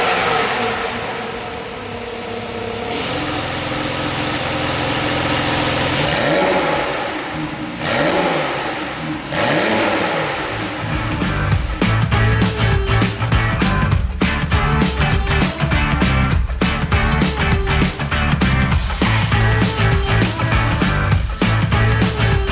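A Porsche 911 Carrera 4 GTS engine in Sport Plus mode, heard up close as it idles, then revs in rising surges before settling into a loud, steady, rhythmic roar, with no speech.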